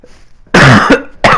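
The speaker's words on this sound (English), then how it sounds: "I need to cough again" Two harsh, loud coughs close by, the first long and rough, the second a short burst after a brief pause, with quiet before them.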